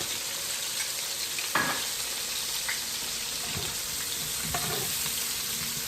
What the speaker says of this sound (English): I'm adding my sweet pepper and tomato.